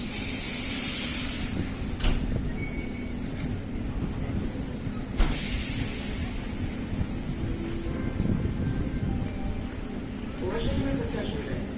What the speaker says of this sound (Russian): Ага, электричка.